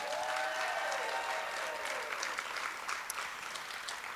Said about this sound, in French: Sérieusement, applaudissons-les parce qu'ils vont être extraordinaires.